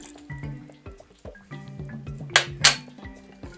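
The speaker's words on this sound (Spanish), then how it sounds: "Echamos las 5 cucharadas de aceite," Olive oil and vinegar dribbling into a dish, with small drips and light clinks of a spoon against the bowl, then two sharper splashy clinks near the end.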